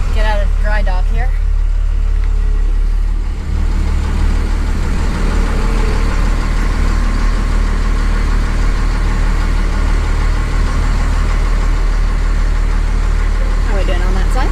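A Cummins diesel engine swapped into a 1978 Dodge crew cab dually idles in a loud, steady low drone, with voices talking briefly at the start and end.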